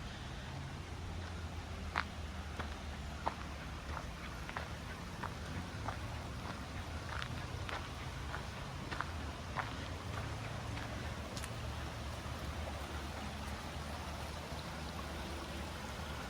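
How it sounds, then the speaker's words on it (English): A creek flows steadily through Brandywine Springs Park in Wilmington, Delaware, its continuous soft rush of water carrying on alone, with a few faint clicks and ticks scattered over it. "Hopefully you can hear the creek."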